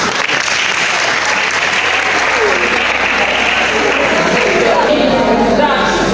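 Audience applause fills a university classroom after a 400-level education course presentation, steady dense clapping throughout at close range with some crowd noise mixed in.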